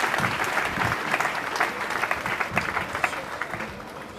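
A church congregation breaks into sustained, dense applause, loud and close, clapping steadily for about four seconds with a few sharper claps standing out near the end.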